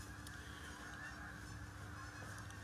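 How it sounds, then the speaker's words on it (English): Geese honking overhead during a duck hunting outing, a faint, distant chorus of repeated honks over steady outdoor background noise. "hear them geese?"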